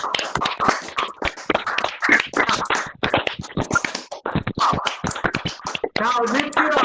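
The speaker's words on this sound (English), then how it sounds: "Everybody, please clap. Come on. Clap for yourself. Clap." Participants in a national webinar on social work clap over their microphones, producing sharp, irregular claps and taps mixed with voices speaking.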